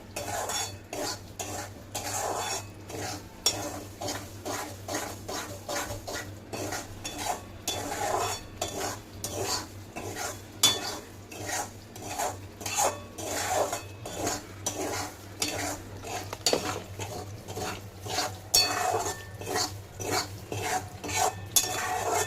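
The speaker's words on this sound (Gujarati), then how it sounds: "ધીમા આંચે આપણે રવાને શેકી લેવાનો છે" Semolina roasting in ghee on a low flame is stirred continuously in a large batch, giving a rapid, regular scraping of a spoon against the pan over a faint sizzle, close up, with no talking.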